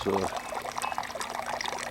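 Water from a small waterfall babbles and trickles down into a couple of rocky catch basins outdoors in Sedona, a steady close wash of splashing flow with a brief low tone at the start.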